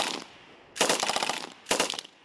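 M2 machine gun firing on a beach during a live-fire anti-landing drill: two loud, rapid bursts of automatic fire separated by a short pause.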